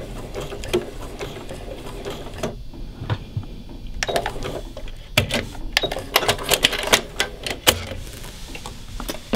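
A sewing machine stitches quilt binding in close, rapid bursts of mechanical clatter, with a short pause partway through before running again in uneven spurts.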